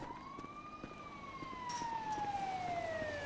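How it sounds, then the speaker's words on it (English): An ambulance siren from the video game GTA V, one long rising then slowly falling wail, fairly close and clear over low background rumble, with no speech. "I think this ambulance is here for you, Trev."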